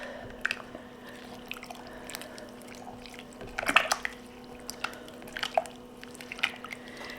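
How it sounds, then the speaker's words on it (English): Pinto bean soup with garlic being stirred in a crockpot: soft, wet squelches and small liquid splashes, scattered and irregular, close but quiet over a low steady hum. "And then we're going to give it a really good stir."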